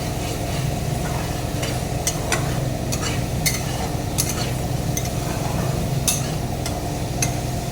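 Masala for fish curry is stirred and fried in a pan, giving a steady loud sizzle throughout with occasional sharp scrapes and taps from the spoon against the pan.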